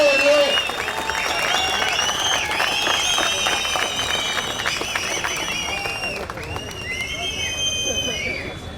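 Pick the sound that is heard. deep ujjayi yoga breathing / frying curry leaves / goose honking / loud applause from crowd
loud applause from crowd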